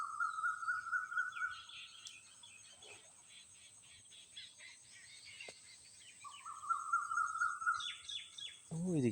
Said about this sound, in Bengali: একটু পাখির আওয়াজগুলো শুনতে থাকেন,